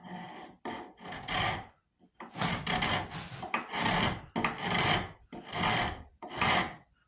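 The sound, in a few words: coarse rasp filing wood on a rifle stock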